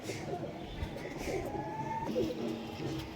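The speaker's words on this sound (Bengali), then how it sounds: "আজকে আমার নিজের ঘরের কিছু পায়রা, হাই ফ্লায়ার পায়রা আপনাদের শখ করাবো।" High flyer pigeons kept at home in Nabadwip coo in a steady, overlapping murmur, several birds close by against soft room noise.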